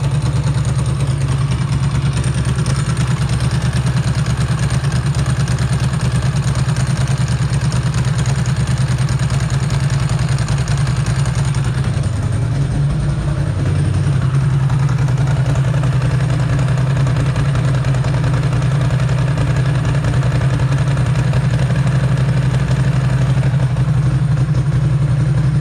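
A Ducati 2V motorcycle engine idles steadily and loudly throughout during throttle body setup, a constant low rumble with mechanical clatter and a brief dip in the middle.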